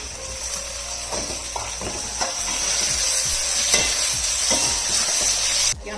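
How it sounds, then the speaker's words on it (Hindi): Half a kilo of chicken fries with spices in a pan, a constant hiss of sizzling beneath repeated scraping strokes of a stirring spoon, close up and loud with no talking. "चिकन को भी अच्छी तरह हम इन सारी चीजों के साथ भून लेंगे"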